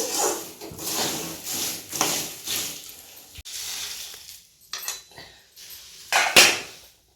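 Hot homemade namkeen mixture being stirred in a pot off the stove, a series of loud scraping, clattering strokes of a spoon against metal, irregular and close, with pauses between bursts.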